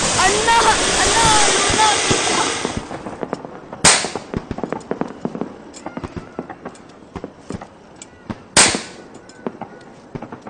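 Diwali firecrackers burst in a loud, dense roar for the first three seconds, then scattered cracks and pops continue with two sharp, loud bangs standing out near the middle and end.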